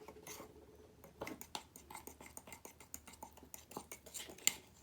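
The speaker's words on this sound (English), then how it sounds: "Now you take your spoon and you want to mix it all up." A spoon stirs mug cake batter inside a mug, giving a run of quick, light scraping clinks against the ceramic, close and fairly quiet, with no talking.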